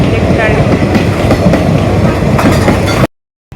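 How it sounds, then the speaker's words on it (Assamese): A train runs along a railway line where it struck a cow, producing a loud, continuous rumble and clatter of wheels on track that cuts off abruptly just after three seconds. "ট্ৰেইনখন গ'লগৈ"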